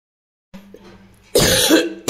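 A woman coughs in one loud, harsh burst lasting under a second, close to the mic, after a stretch of quiet room noise.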